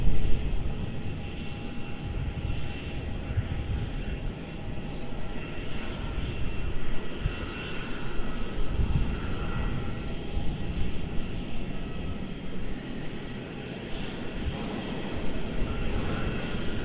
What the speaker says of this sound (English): Jetstar must be waiting for this Dash 8 crossing runway 34.